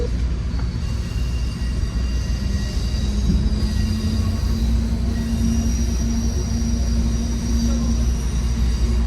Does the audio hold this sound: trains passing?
yes